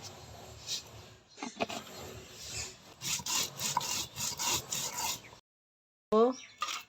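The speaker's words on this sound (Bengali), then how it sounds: "কয়টা জিরা বেটে নিব" Cumin seeds being ground by hand on a flat grinding stone in a home kitchen: a rough, rhythmic stone-on-stone rubbing in repeated strokes, close up, then a pause and a short final scrape.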